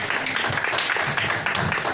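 An audience claps loudly and steadily for a visitor at a group meeting, the applause filling two seconds as a dense, even patter with voices mixed in.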